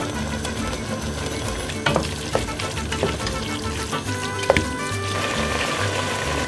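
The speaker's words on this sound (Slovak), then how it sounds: "Pekne premiešame" Meat with sweet paprika stirred in a pan for chilli con carne, a steady sizzle of frying with scraping spoon strokes and a few louder clacks against the pan, no talking.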